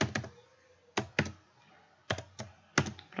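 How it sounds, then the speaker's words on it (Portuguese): Keys on a computer keyboard being pressed to enter a password, coming in small clustered bursts of two or three sharp clicks separated by short pauses, close and clear with no talking. "Vou ter que digitar minha senha de novo"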